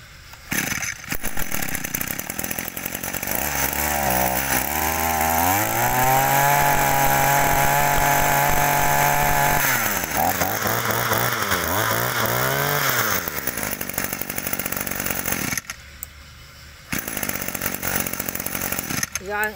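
A small Echo 24cc two-stroke brush cutter engine idles and then revs up high for several seconds, settling back to a rough idle, loud and close, briefly cutting out near the end.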